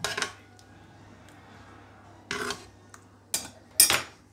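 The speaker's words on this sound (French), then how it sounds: "je vais prendre avec une cuillère et je vais verser un peu partout" Spoon clinking against a dish while scooping and pouring tomato sauce over a chicken and vegetable gratin, a few sharp metallic taps spaced apart over a quiet background.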